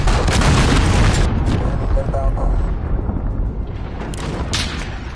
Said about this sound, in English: Enemy cruise missile is coming.